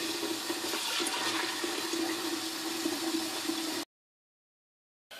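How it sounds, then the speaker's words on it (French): Tap water pours into a pot of beans, a steady, close rushing stream for about four seconds. It cuts out abruptly, then returns briefly at the very end. "on va aller rajouter de l'eau. On va mettre 2 fois la hauteur de nos fèves en eau."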